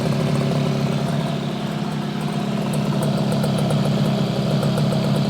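1968 Yamaha YAS1C 125 twin two-stroke engine idling close up, steady buzzing drone with slight irregular misfiring unevenness throughout.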